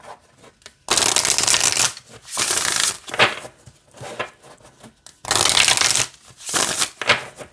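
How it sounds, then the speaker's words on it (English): Loud, close bursts of oracle cards being shuffled, repeated several times with short quiet gaps between each riffle. "let's shuffle it this way"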